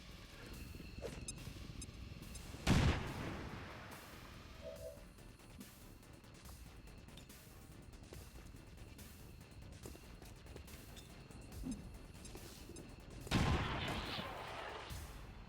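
AP grenades detonate in the XCOM strategy game (Long War of the Chosen mod), two loud broadband blasts several seconds apart standing out over a steady low ambient bed, with a faint softer pop between them.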